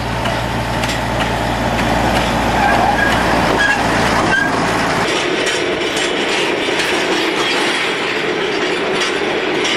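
A sugar cane train near Cairns, Australia rolls past close by, its loud continuous rumble of wagons and wheels carrying clicks and faint squeals from start to finish, with no voices heard over it.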